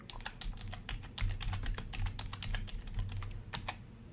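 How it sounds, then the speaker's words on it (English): Fast, irregular typing on a computer keyboard, a steady run of close, crisp key clicks over a low background hum with no talking. "He's typing."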